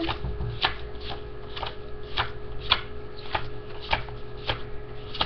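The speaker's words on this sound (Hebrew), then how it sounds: "נתחיל להוריד קלפים." Playing cards are dealt one by one off a deck during a card magic trick, a steady run of about a dozen crisp, close slapping flicks spaced roughly every half second.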